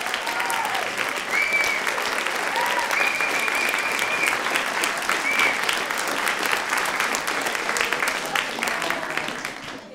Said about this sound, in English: let's give them one more round of applause for the work that they contributed to this.